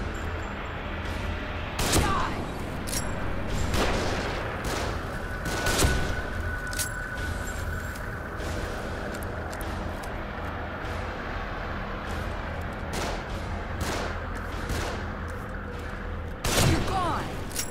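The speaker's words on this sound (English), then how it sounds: "They're shooting from above." Enemies firing down from above in the survival horror game The Evil Within, several sharp gunshot bursts spaced irregularly over a continuous low rumbling background, with a voice speaking at times.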